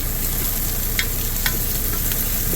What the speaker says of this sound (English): I'm going to continue to stir this for a little while